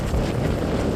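Wind gusts roar loud and close on a mountain stretch of the Colorado Trail, buffeting the microphone in a steady low rumble for a brief moment.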